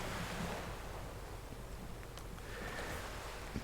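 Ocean surf washes steadily with a low, continuous roar and some wind noise, with no distinct breaking crashes standing out.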